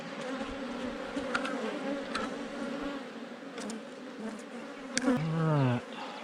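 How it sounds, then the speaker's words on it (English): Honey bees buzz at a treatment-free hive during an inspection after it swarmed, a steady, quiet, close drone of many insects with occasional louder passes near the microphone and a brief whirring rise near the end. "I'm going to smoke these bees once more."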